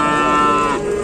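Cattle at a livestock market selling Limousin and Simmental calves, one loud, close, sustained moo held steadily before fading slightly at the end.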